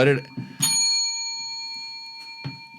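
A single bright bell ding rings out and lingers with a long metallic tail, with brief talking just before it and a soft thump later.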